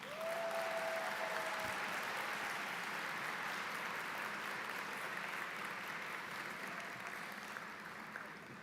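Sustained audience applause at a medical school Match Day event honoring award winners, a steady wash of clapping from a large crowd lasting throughout and tapering slightly near the end.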